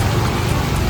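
Steady rain falls heavily outdoors during a sudden downpour, a dense continuous hiss and patter with no break and no talking.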